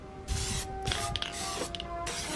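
An aerosol can sprays paint onto a small frame set in a box lined with a trash bag indoors, the hiss coming in steady bursts with short gaps and small clicks of the nozzle between them.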